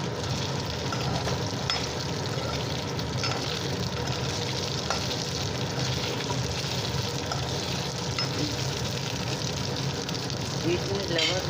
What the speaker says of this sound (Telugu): మళ్ళీ జీలకర్ర వేసుకుని ఫ్రై చేసుకోవాలన్నమాట